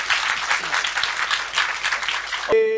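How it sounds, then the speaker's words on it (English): Audience applause for a professor after a Q&A on Singapore's sea history, a steady wash of many hands clapping that cuts off abruptly into a sustained tonal hum near the end. "Can we give Prof another round of applause, please?"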